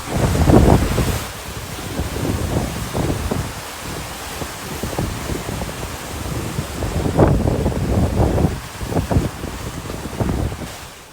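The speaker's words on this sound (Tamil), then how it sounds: "பாம்பன் கடல் நேற்றை விட இன்று அதிகமான கொந்தளிப்புடன் காணப்பட்டு வருவதுடன் கடல் சீற்றம் ஏற்பட்டு கடல் அலைகள் கிட்டத்தட்ட ஒரு 5 முதல் 6 அடி உயரம் வரை எழுந்து வருகிறது" Rough sea at Pamban during Cyclone Ditwah, with waves five to six feet high crashing and surging continuously under steady roaring wind, loud and close throughout.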